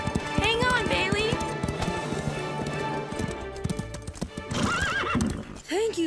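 Horses gallop and whinny in an animated scene, with rapid clip-clop hoofbeats and several loud neighs rising over the hooves while people talk.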